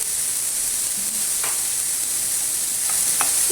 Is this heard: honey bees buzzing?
no